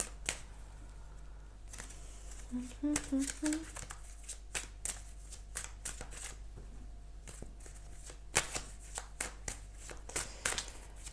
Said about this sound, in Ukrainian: Давайте дивитися, коли ж випаде наша карта все перемішаю.